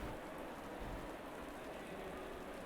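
Steady rain in a sim racing game at the Nurburgring, a constant dense hiss that stays even and fairly faint for the whole stretch with no talk over it.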